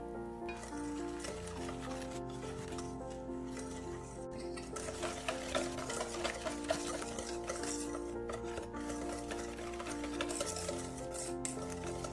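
A spoon stirs an egg into coconut macaroon mixture with soft, steady scraping. It is fairly faint and sits under continuous background music.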